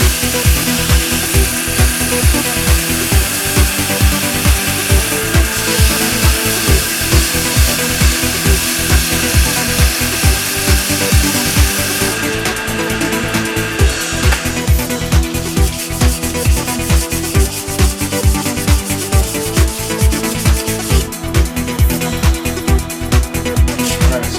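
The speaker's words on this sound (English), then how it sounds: "once the sandpaper is touching the wood for a certain amount of time, the sandpaper will actually heat up, the wood will heat up" Sanding wood on a pen blank turning on a lathe, a loud continuous rhythmic rasp with steady pulsing strokes that runs unbroken throughout.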